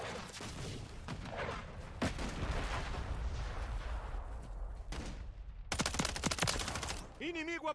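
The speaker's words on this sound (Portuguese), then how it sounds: "Tô levando tiro." Gunfire in Call of Duty: Modern Warfare III, dense bursts of shots and heavy booms in a continuous loud barrage, ending with sharp rapid cracks.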